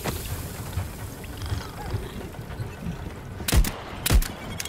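Two sharp gunshots fire in quick succession near the end in the game Voidtrain, over a steady windy rumble.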